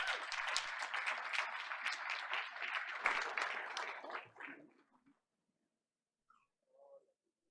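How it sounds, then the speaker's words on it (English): Applause from a crowd at a school board of education meeting, steady for about four seconds before tapering off, followed by near silence with a couple of faint brief sounds. "Let's give her another round of applause."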